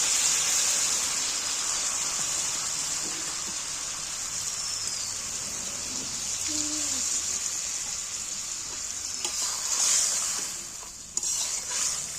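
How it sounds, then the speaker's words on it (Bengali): Water poured into a pan of drumstick and fish curry, a steady hissing sizzle and stirring that runs throughout at moderate level, with a few faint clinks near the end. "এবার পরিমাণ মতো জল দিয়ে দিচ্ছি"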